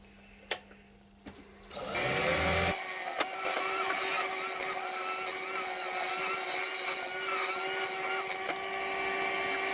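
Steady, loud scraping and shaving of a turning tool hollowing out a rustic wooden garlic pot spinning on a lathe, continuous after a brief quiet start with a couple of knocks.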